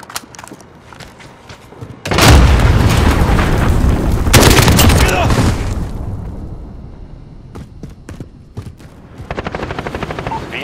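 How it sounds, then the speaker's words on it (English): Heavy cruise missile explosions in a Call of Duty: Modern Warfare multiplayer match roar in two loud rumbling blasts, followed by scattered distant shots and another swelling impact. "Enemy cruise missile incoming."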